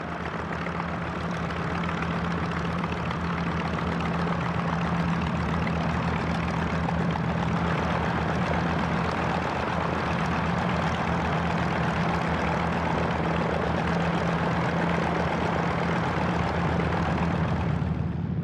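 A propeller-driven Japanese Zero fighter's engine drones in a steady, loud, dense roar that holds evenly through the whole stretch, with no voices.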